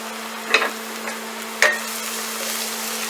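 Garlic sizzles in a pan for stuffed flank steak, a steady soft frying hiss broken by two sharp clanks of a utensil against the pan, with a constant low hum beneath.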